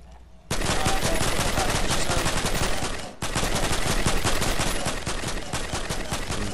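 Sustained rapid gunfire in the Fortnite video game, loud and continuous, cutting off briefly midway before the volley resumes.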